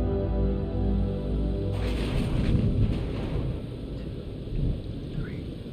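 In the video game Man of Medan, a thunderstorm rolls over open water at sea, a deep sustained rumble of thunder under steady rain, with no voices heard.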